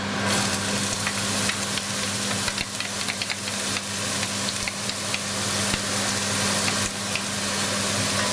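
Crushed galangal root and garlic frying in a pan, making a steady close sizzle and crackle with a few light clicks and stirs, moderately loud and uninterrupted, with no talking.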